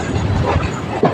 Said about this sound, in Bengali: শিয়ালদা স্টেশনে ঢুকছে